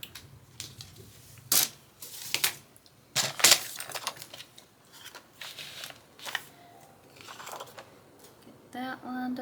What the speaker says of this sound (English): So I'm going to cut right there.